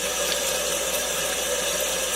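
Tap water pours steadily from a faucet into a sink as hands are washed before cooking salmon patties, a continuous close hiss with no talk over it.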